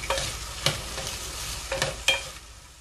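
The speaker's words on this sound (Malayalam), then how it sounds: "ഇനി നമുക്ക് വെണ്ടയ്ക്ക ചേർത്ത് വെക്കാം. ഒന്ന് മിക്സാക്കി കൊടുക്കാം." Okra goes into a frying pan for an okra and egg thoran and is stirred through hot oil. A low, steady sizzle runs underneath, with a few sharp scraping clacks of the spoon.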